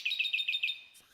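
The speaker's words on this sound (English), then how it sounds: "Bloody bird in my ear." A caged pet bird chirps loudly right beside the microphone, a rapid run of about six sharp, bright tweets in one second, then stops.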